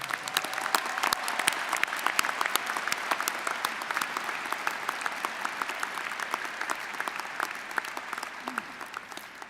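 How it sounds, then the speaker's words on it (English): An audience applauding new doctoral candidates at a fall commencement ceremony, dense steady clapping from a large crowd in a hall, sustained throughout without a break. "would the audience join me in applauding our newest doctoral candidates"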